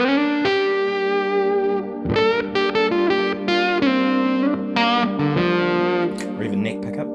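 Electric guitar on the bridge pickup runs through a Red Witch Euphorium fuzz pedal set to a dark tone, playing sustained fuzzy chords and notes with a thick, saturated character, steady and loud without speech.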